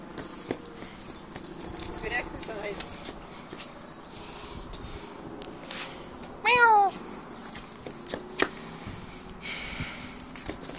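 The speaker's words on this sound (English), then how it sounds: "Playing with cats?" A cat at a zoo lets out a single clear meow, close and brief, over rustling, footsteps and light ambient noise.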